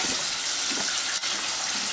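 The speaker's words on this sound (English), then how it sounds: "So we're gonna get water, not too cold and not too hot." Steady, close rush of water running from a tap at moderate temperature for wetting makeup brushes, a continuous hiss alone with no voices.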